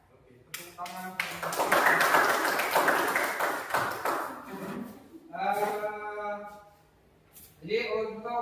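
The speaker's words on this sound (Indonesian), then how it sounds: "tepuk tangan" A classroom group claps together for a few seconds, a dense burst of hand claps that fades, followed by a teacher's voice speaking nearby.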